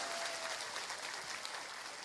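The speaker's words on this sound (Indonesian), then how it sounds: "Tepuk tangan dulu dong buat Islam." Audience applause at an Islamic religious talk, continuous dense clapping from a crowd throughout the short stretch, fairly even in level.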